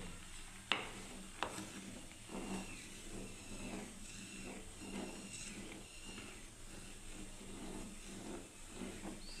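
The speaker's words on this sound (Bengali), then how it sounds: "সেমিয়ের পায়েসটা ফুটছে" Vermicelli milk pudding (Bengali payesh) simmering in a pot, giving a steady soft bubbling hiss with faint stirring clicks and a couple of sharp utensil knocks near the start.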